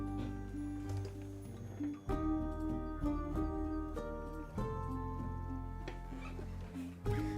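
A house cat meows and yowls in repeated drawn-out calls, loud and close, over an indoor background with a faint ticking.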